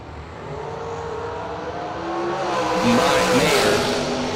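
Dragsters launching at a drag race, a loud roaring engine drone that builds and rises in pitch as the cars pull away, heard from a distance with crowd and track noise mixed in.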